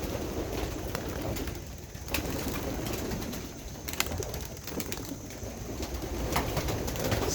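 Racing pigeons being released from a loft for a flight, with faint cooing and scattered wing flaps over steady outdoor background noise, distant and quiet throughout.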